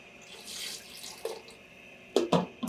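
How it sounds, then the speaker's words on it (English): Two cups of water poured from a tap into a cooking pot holding potatoes and carrots for a pumpkin curry, a soft running stream followed by two short louder splashes near the end, with no talking. "Add your water. You're gonna need 2 cups of water."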